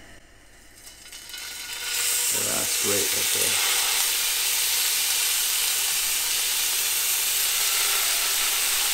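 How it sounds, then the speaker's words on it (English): Salmon steaks hit a hot pan and start to sizzle, a bright frying hiss swelling in after a quiet start and holding loud and steady, with a short spoken comment near the beginning. "It's a sizzle."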